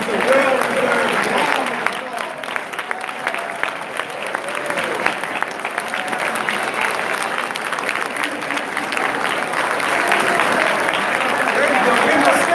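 A large awards-gala audience applauds its honorees in sustained, dense clapping with cheers and voices woven through, loud and steady for the full stretch.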